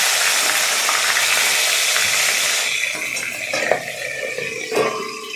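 Rita fish frying in hot oil in a kadai, with a loud, dense hiss of sizzling oil that thins partway through into quieter bubbling with a few clinks and pops.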